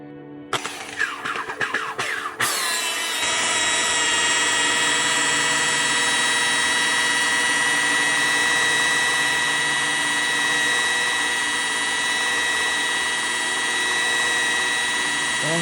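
A power buffer polishing car paint with compound during wet-sanding repair: the motor spins up after a few bumps and clicks, then holds a steady high whine with tonal hum, loud and close.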